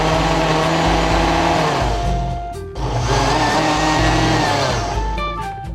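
A blender whirs as it mixes a thick peanut butter dressing with rice wine vinegar for a Thai chicken salad. The loud, steady motor drone drops out briefly partway through and then picks back up.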